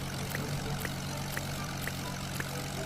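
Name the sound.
propeller airplane flying in Roblox video game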